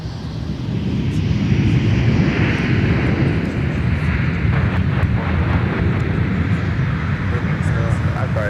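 A Sun Country airliner roars at Minneapolis–St. Paul airport, its loud jet engine swelling into a steady, sustained rumble mixed with wind buffeting.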